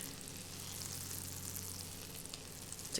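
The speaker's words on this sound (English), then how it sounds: "let's go ahead and get the butter moved around in the pan here" Butter sizzling and frying in a pan on the stove for a low-carb keto breakfast, a steady, fairly quiet crackle with a low hum underneath and no talking.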